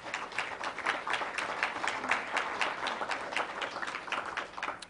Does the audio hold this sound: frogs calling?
no